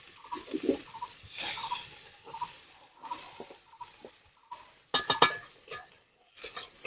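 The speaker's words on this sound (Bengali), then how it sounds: "দিয়ে একটু ভালো করে পেঁয়াজটা ভেজে নিতে হবে লাল করে।" Chopped onions frying in a pan as a spatula stirs them, with intermittent scraping and metallic clinks close by, then a burst of sharper clatter near the end.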